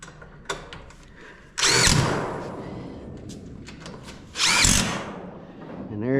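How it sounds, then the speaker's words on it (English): Two loud bursts of a power drill driving into wood while building a walk-in chicken coop, each whining for about a second, with knocks and low shuffling noises between them. "you can get the drill right behind it."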